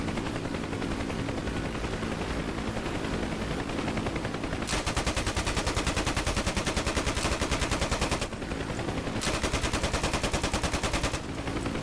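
Gunfire from a DCS UH-1 Huey helicopter in the flight sim is a steady rapid machine-gun rattle over constant rotor drone. It grows louder and denser midway, with a short pause before a final burst.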